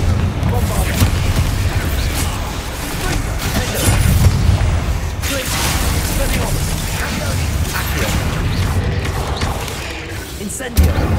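Confringo and Bombarda explosion spells in Hogwarts Legacy, heard as loud continuous blasts and booming bursts in a dense, noisy battle, with talking underneath.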